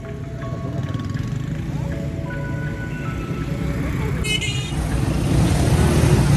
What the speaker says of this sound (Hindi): ये लाहौर की ट्रैफिक है